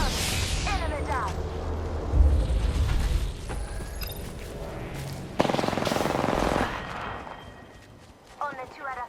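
Gunfire in the battle royale game Apex Legends, bursts of shots and impacts mixed with game effects and a voiced announcer, fairly loud throughout with a sharp shot near the middle.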